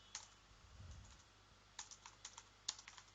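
Keystrokes on a computer keyboard while Java code is entered, a quiet scattered run of light clicks near the mic, about a dozen taps with a brief dull thump early on and no talking.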